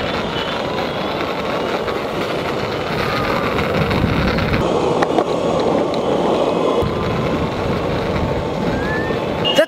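A Boosted 2 electric skateboard rolls along pavement with a continuous rumble of wheels and road noise mixed with wind, steady and fairly loud throughout.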